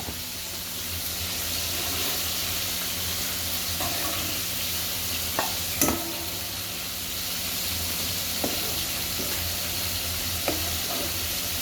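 Spices sizzle steadily in hot oil while being sautéed for a bottle gourd and hilsa fish curry, a continuous close frying hiss with a few sharp clinks of a stirring utensil scattered through.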